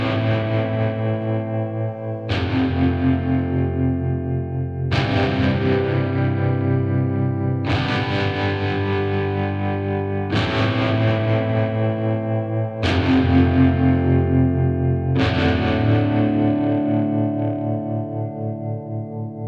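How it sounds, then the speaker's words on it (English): Western-style outlaw guitar from the Westwood Instruments Novella Blackwater virtual instrument plays a slow chord progression, five ringing strummed chords each sustaining and fading into the next, with a touch of effects and reverb, no voices. "So that outlaw guitar sounds brilliant."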